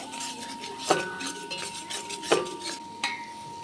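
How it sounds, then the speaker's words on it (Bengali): A metal spoon scrapes and clinks against a pan in a few sharp strikes while spice paste for chicken roast is fried, with quiet stirring and faint sizzling in between. "মশলাকে খুব ভালোভাবে কষিয়ে নিতে হবে"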